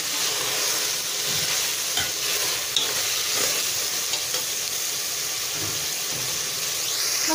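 Keema matar with a tablespoon of dried fenugreek leaves being mixed in a pan, an even, continuous sizzle with light scraping stirs and occasional soft knocks throughout.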